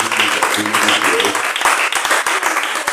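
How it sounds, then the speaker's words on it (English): Audience applause at a textile workshop exhibition, fairly loud clapping from a group with distinct individual claps growing more noticeable, with some talking mixed in beneath. "I'd like us to all please give him a round of applause for making this"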